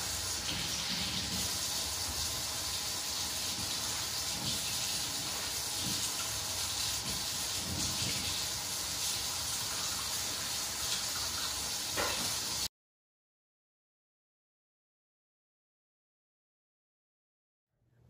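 A household tap runs steadily for handwashing, a close, even rush of water that lasts about twelve seconds and then cuts off abruptly into silence.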